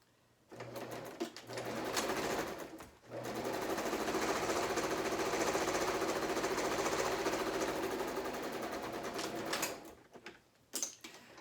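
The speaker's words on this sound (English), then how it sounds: "So there I have I just sewed the top and the bottom" A sewing machine runs in one long, steady burst while stitching the top and bottom seams of a homemade medical face mask made from tightly woven fabric. It is close and even, with brief starts and stops at either end.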